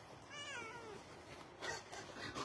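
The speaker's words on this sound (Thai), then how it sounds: "เมื่อกี้ตกใจนึกว่ามือถือร้องเหมียว" A cat meows, a faint wavering cry near the start followed by softer, quieter mewing sounds, with no talking over it.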